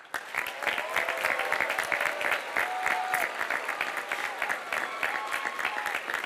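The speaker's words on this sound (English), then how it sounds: "Please give a quick round of applause for our graduates" An audience at a high school graduation ceremony applauds the graduates, a steady, dense wash of many hands clapping that holds evenly throughout with no talking over it.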